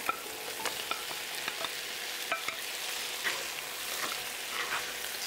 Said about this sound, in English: Stir fry for a few minutes